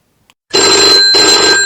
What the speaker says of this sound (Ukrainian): І вам телефонують з приймального відділення.